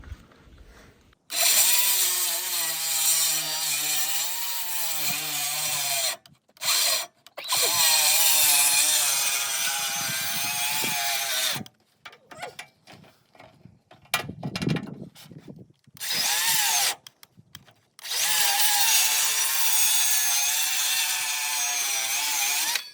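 A hand saw cuts through 4x4 lumber in long steady strokes, loud and close, with a few short pauses between bursts of sawing.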